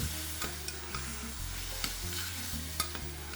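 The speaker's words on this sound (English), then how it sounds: "whilst those onions are cooking out" Onions sweat gently in a pan before gammon steak is cooked, a soft steady sizzle with a few spoon scrapes and light clinks, heard alone over a low hum.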